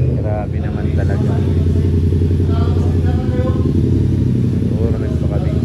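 Big bike motorcycles idle and rumble nearby, a loud, steady low engine drone running throughout, with voices talking over it.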